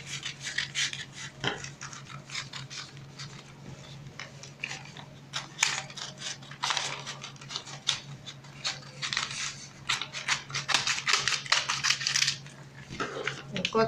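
Scissors snip through fabric while a paper pattern for an off-shoulder blouse is cut out, a series of close, crisp cuts and rustles in irregular bursts with short pauses between them.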